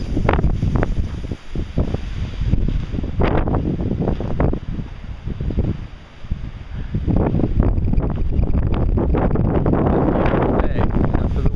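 Strong wind after a windstorm roars and buffets the microphone outdoors in sustained gusts, with deep rumbling surges that rise and fall throughout.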